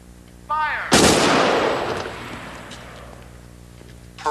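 Firing-squad volley at a staged live execution at San Quentin: one loud gunshot crack with a long, rolling echo that slowly fades, followed by quieter room tone and a faint voice at the very end.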